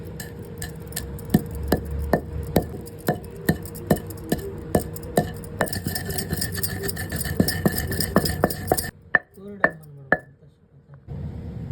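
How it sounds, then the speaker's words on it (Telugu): Roasted fenugreek, cumin and mustard seeds are pounded in a mortar with a pestle, giving a steady series of sharp, close thuds for about nine seconds before the pounding stops. "ఇప్పుడు ఆ వేయించుకున్న వాటిని ఒక రోకల్లో వేసి బాగా అయితే దంచేసింది."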